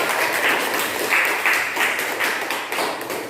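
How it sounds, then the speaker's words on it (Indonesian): A classroom group claps for a student team in a teaching session, a brisk crowd of hands with a few louder claps popping through, steady throughout with no voices. "kita berikan tepuk tangan untuk kelompok"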